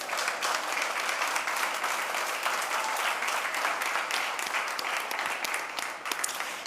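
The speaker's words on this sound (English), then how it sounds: "If we could give our panelists who stand with Israel a round of applause." An audience at a Michigan conference assembly gives panelists a round of applause, with dense, continuous clapping that holds steady at full volume for several seconds.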